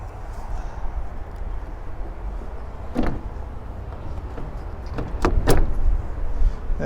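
A hatch on a 2022 Hymer Free 540 Blue Evolution campervan being shut, with a couple of sharp latching clunks near the middle and a cluster of louder thuds toward the end over steady background rumble.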